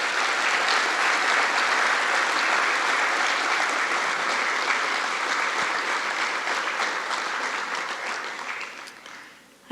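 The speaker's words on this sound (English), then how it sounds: "if everyone would please join me in giving him a round of applause" Sustained applause from an audience at a 9-11 memorial ceremony held by Palm Beach County Fire Rescue, a steady dense wash of clapping that gradually thins and fades out near the end.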